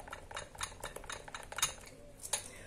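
A homemade skin-whitening mixture is stirred in a bowl, making quiet, quick clinks and scrapes of a utensil in a short, uneven series.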